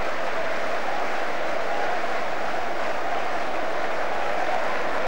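Stadium crowd applause at Wembley after the 1996 FA Charity Shield between Manchester United and Newcastle, a dense, steady wash of clapping from a large distant crowd that holds evenly throughout with no clear voices.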